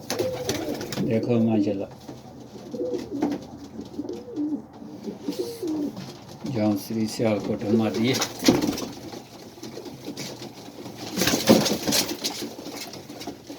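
Lakha pigeons kept by a fancier in Saudi Arabia coo in repeated soft throaty bursts, close by, while someone talks over and between the calls.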